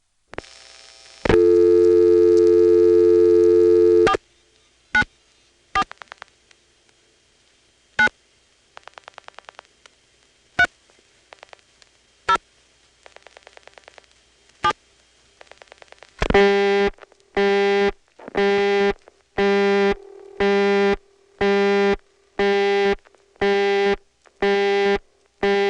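A senderized XY step-by-step telephone switch in Woodbridge, Virginia, is recorded on a faulty tape as a steady tone gives way to sparse clicks and then a rhythmic series of repeated harmonic tone bursts, slightly distorted.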